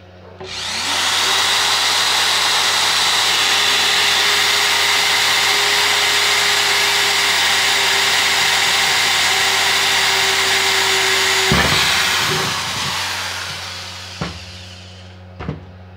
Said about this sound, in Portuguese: Vou fazer mais um furo aqui.